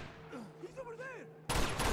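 Gunshots in Uncharted: Among Thieves, a sudden loud burst of rapid fire that cuts in abruptly after a quieter stretch of voices and whistling tones.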